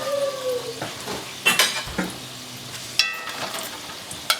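Homemade egg rolls fry in oil, a low crackling sizzle broken by several sharp clinks and clatters of utensils against the pan.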